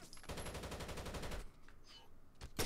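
Automatic gunfire in the video game Osiris: New Dawn, a rapid rattling burst lasting over a second, then quieter game sounds and a final sharp shot, fairly faint overall.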